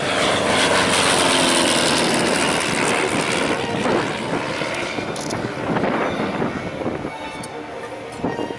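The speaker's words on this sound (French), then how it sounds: "Alors regardez bien le moteur, c'est l'avion de Formule." A loud Formula-class racing plane engine roars continuously at an air show, droning close and steady with a slight fade toward the end.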